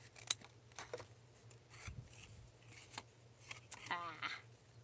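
Scissors snip through embellishment paper for a sunflower-themed list journal, a few close crisp cuts with rustling paper in between, mixed with a person talking quietly.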